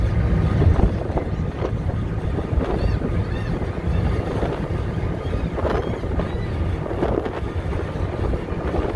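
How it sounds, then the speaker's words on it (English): A car ferry crossing from Cape Hatteras to Ocracoke on the Outer Banks, heard as a continuous low engine drone with rushing water and wind buffeting the microphone, steady throughout. "I highly recommend a ferry ride."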